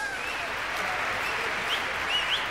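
Steady audience applause at a 1980s concert of 1960s songs, a dense, even wash of clapping from a large crowd that holds for the whole stretch with no voices over it.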